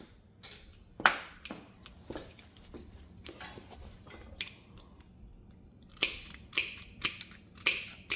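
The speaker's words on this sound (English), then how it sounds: "I'm going to go ahead and clean up the edges with the shears" Hand shears snip the edges of a flattened DIY copper electrical lug, a series of crisp close metallic clicks and cuts, scattered at first and then a quicker cluster near the end, in a quiet room.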